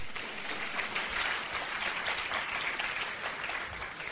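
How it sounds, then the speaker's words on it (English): A round of applause at a graduate gathering, a continuous, fairly distant wash of many hands clapping, steady throughout with no voices over it. "Round of applause to Raj."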